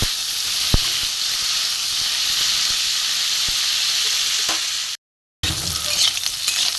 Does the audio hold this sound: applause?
no